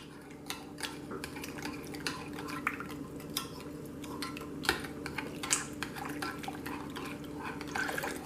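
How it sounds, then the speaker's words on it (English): Yeast and flour stirred together for four-ingredient no-knead bread, a steady run of soft scraping and light clinks of a utensil against a bowl, close and fairly quiet with faint drips. "And we're going to give her a stir."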